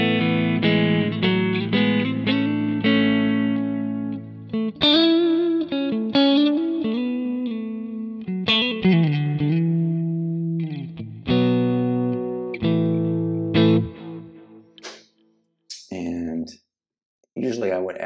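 An electric guitar through a clean TONEX tone model on a Quad Cortex plays bright chords and single notes with echoing delay and reverb tails, loud and up front, ending in sparse picked notes.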